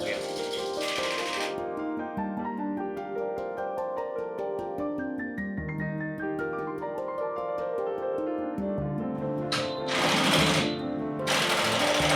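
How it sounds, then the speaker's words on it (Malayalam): A Jack H2 heavy-duty sewing machine, used for seat covers, sofas and bags, runs in steady fast stitching bursts with a loud mechanical rattle, pausing briefly and restarting; no talking. "ഇത് ജാക്കിൻ്റെ എച്ച് ടു എന്നുള്ള മോഡലാണ് ഇത് നമ്മൾ ഹെവി ഡ്യൂട്ടി മെഷീനാണ്"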